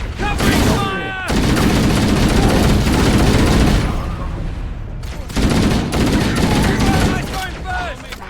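Sustained heavy gunfire from Halo: Combat Evolved Anniversary on the Pillar of Autumn level: loud, dense rifle bursts and booms keep going almost without pause, with short breaks near the start and the middle.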